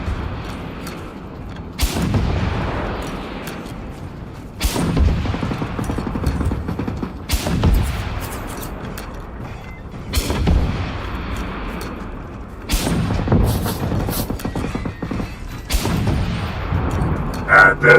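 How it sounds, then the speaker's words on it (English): Heavy gunfire and booming blasts from the Generation Zero video game repeat in bursts every few seconds, loud and close, with a rumbling roar between the shots. "What the hell are you shooting at?"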